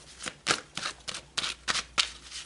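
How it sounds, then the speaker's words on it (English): Tarot cards being shuffled during a reading, a quick run of crisp papery riffles and flicks in close succession, close and fairly soft, with no voice over them. "So let's pull a couple more cards."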